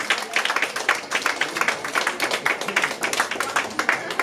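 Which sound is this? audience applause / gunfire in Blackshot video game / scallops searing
audience applause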